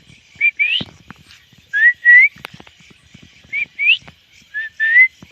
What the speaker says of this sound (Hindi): ये बाबू है अभी सीटी बजा है